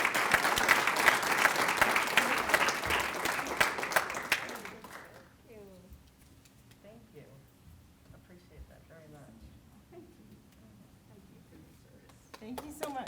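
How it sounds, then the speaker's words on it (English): A room of people applauds at a veterans' honoring ceremony, full and close for about five seconds before the clapping stops abruptly, after which a voice speaks quietly and more applause starts up at the very end. "Round of applause for these amazing women."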